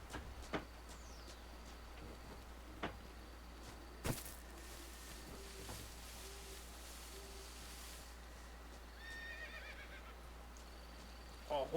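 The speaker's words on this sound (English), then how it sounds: "A horse?" A horse whinnies faintly in Metal Gear Solid Delta: Snake Eater, a short quavering neigh near the end amid quiet game ambience, a few isolated clicks and knocks, and a low steady hum.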